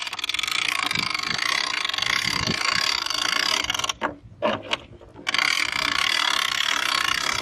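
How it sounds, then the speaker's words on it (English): Hand-cranked winch ratcheting steadily, used to hoist a bat house on a telescopic pole up alongside a 6x6 post; continuous close clicking of the pawl, with a brief pause near the middle before the cranking resumes. "all I'm going to have to do is crank on this winch"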